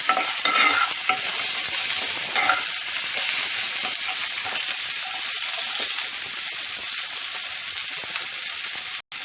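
Chopped onion sizzles in leftover fish-frying oil while being stirred, a steady loud hiss with scraping stirs early on, ending with a sharp knock.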